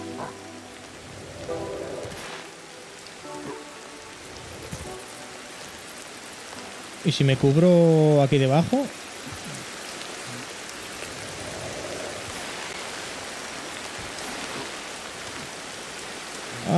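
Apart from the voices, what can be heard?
rain in video game Ancestors: The Humankind Odyssey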